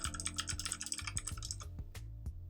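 Fingers type text on a computer keyboard in a quick, close, clattering run of keystrokes with short pauses, heard alone without any voices.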